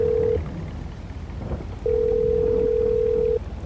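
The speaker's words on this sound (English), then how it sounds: "let me make that phone call to Evelyn while I'm driving here" Phone ringback tone during a call in Farming Simulator 22, with a short beep followed by a long steady tone over a soft background patter like rain.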